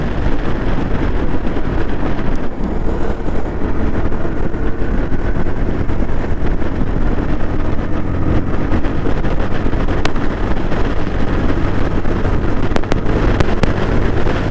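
A Yezdi Scrambler motorcycle cruising at about 110 km/h on the road, with loud, steady wind roar buffeting the microphone and a low engine drone running beneath it without a break.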